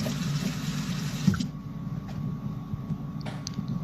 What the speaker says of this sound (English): we're just gonna wash our hands real quick.